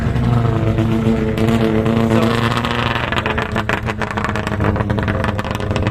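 A classic 1970s Saab two-stroke race car, a recreation of the original, drives past loud and close. Its engine drones and revs steadily, then fades into rough, crackling bursts toward the end, with no talk over it.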